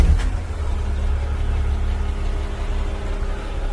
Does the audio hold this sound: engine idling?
yes